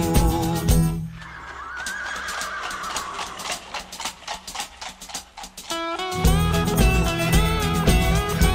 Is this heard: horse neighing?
yes